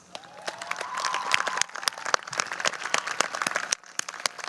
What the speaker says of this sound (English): we have to keep clapping until he comes, so just keep it up